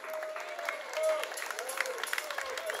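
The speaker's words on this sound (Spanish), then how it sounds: "vamos a hacer un aplauso para mi compañera Crisia Campos" Audience applause at a Orquesta Sinfónica Nacional concert in El Salvador, a faint, scattered patter of clapping running steadily beneath an amplified voice speaking over it.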